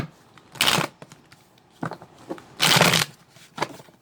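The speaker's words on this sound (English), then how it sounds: "why am I shuffling?" Deck of tarot cards being shuffled, two loud riffling bursts a couple of seconds apart with softer card handling taps between.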